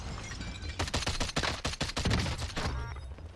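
Rapid burst of DMR rifle fire in the video game Warzone Rebirth, a dense string of sharp close shots packed into about two seconds, with quieter game ambience before and after.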